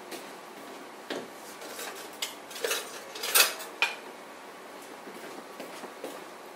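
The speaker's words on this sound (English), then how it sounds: "And so I'm going to whisk those together." Flour, sugar and milk are whisked in a bowl for blueberry cobbler batter, giving light, irregular metallic taps and clinks against the bowl, mostly faint with a few sharper hits.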